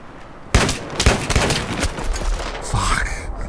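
Frag rounds fire in a Battlefield 3 Gun Master match: a sharp loud blast opens a burst of rapid booming shots and explosive cracks, followed by a rising whoosh near the end.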